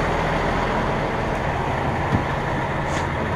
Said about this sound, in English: as you can hear, the truck engine change tones a little bit